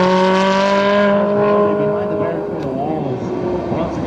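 A toy racing car gives off a loud, steady electronic engine drone, a buzzing whine that holds a constant pitch for the whole stretch, with a voice faintly underneath.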